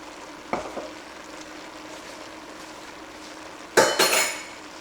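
A spoon stirs a cabbage roll mixture with Worcestershire sauce in a pan, two short scraping bursts, one brief near the start and a louder one near the end, over a low steady sizzle.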